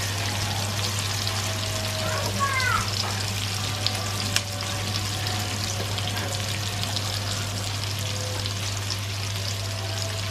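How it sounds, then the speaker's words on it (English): Sliced onion and shredded garlic frying in rapeseed oil in a home kitchen, a steady close sizzle with faint stirring clinks and a constant low hum underneath. "Now it goes in with the sliced onion and shredded garlic."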